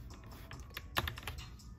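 Keys clatter on a Roccat Vulkan Pro full-size gaming keyboard, a quick stream of close, crisp mechanical clicks with one louder strike near the middle, and no voices.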